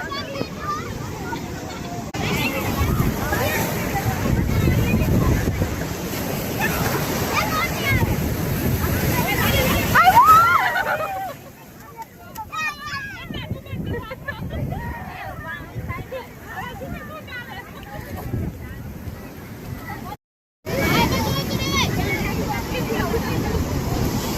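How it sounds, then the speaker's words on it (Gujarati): Sea waves crashing at a beach, a continuous loud surf roar with wind buffeting the microphone, with voices talking over it and a brief dropout near the end. "બહુ મોજા મારે છે."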